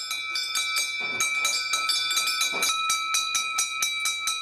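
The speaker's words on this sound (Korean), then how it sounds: "갑자기 빨래터를 울리는 종소리." A bell rings in quick repeated metallic strikes with a sustained ringing tone, carrying over an open-air washing place for dhobi laundry workers in India.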